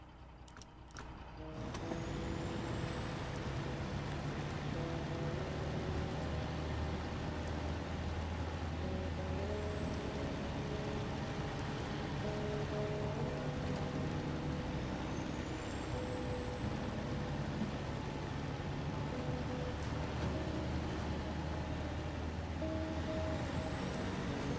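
A Western Star 47X truck engine from SnowRunner drones steadily and loudly, with a deep sustained rumble and a rising whine that holds throughout.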